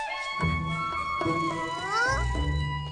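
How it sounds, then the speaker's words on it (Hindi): A black cat in a Doraemon cartoon meows several times in quick succession, drawn-out, tonal cries that rise and bend in pitch, heard clearly over a low background. "वो एक काली बिल्ली है"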